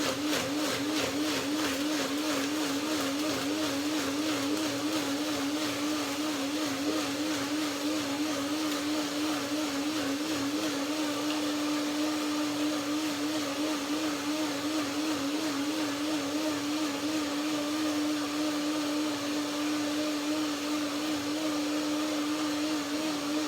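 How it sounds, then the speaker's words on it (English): A blender blending fruit for a fruit salad whirs loudly and continuously, its motor pitch wavering slightly before settling into a steady high drone, with no talking. "Blender dance."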